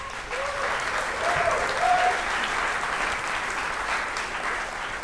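Steady audience applause fills a workforce development executive order signing ceremony, a dense wash of clapping held at an even level for its whole length, with faint voices beneath.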